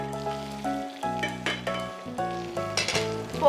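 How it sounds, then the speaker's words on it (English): Sesame-crusted ahi tuna loin sears in a hot pan, a steady loud sizzle broken by short clinks and shifts as pieces are moved, close up with no talking. "we want to sear each side about 3 minutes or until the sesame seeds are toasty"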